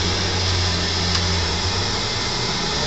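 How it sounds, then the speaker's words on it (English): A loud, steady whooshing hand dryer runs continuously without letting up, close and even in level throughout, inside a toilet built into a signpost. "That's the hand dryer."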